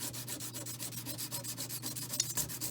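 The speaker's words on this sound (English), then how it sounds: "I'm sanding the top surface of the ring." Steady rhythmic rasping of sandpaper rubbed back and forth on the top surface of a metal ring, close up, with no talking.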